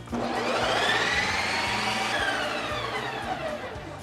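A Ninja Creami ice cream maker spins a frozen Frosty-style mix on its Lite Ice Cream setting, giving a loud, steady motorized whir with a rising and falling whine that runs unbroken from start to finish.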